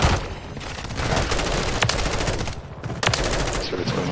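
Rapid automatic gunfire from the game Call of Duty MW3 in ranked online play: sustained bursts of shots, close and continuous, at moderate level and with no voice over them.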